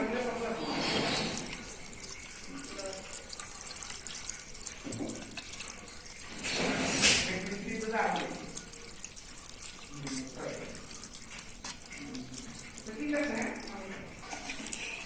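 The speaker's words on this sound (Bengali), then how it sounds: "এবার আমি ধুয়ে নেওয়ার পর এটাকে পানি নিংড়িয়ে নিব" Washed, soaked flattened rice (chira) is squeezed by hand, sending water splashing and dripping in irregular bursts, some sharper than others, with low voices faintly in the background.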